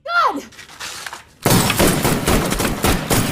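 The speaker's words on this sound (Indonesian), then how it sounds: "akhirnya memicu baku tembak antara kedua pihak" Film gunfire exchange in a sniper story: after a brief swooping tone and a quieter gap, a dense burst of loud, sharp gunshot cracks erupts and continues.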